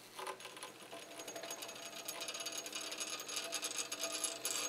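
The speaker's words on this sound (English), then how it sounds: "What I'm going to do now is stir this to complex the uranium." A uranium solution with crown ether and chloroform is stirred vigorously, giving a fast, continuous rattling and clicking whir, faint and close, with no voices.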